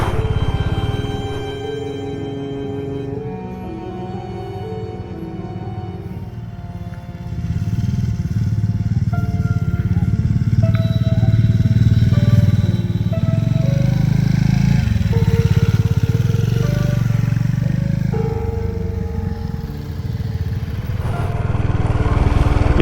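A motorcycle rides off-road up the Bhaljor Hills in Banka, Bihar, its engine droning steadily and then rising into a louder labored growl as it climbs, close and continuous with no speech.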